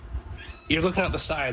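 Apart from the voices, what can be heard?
small cat meowing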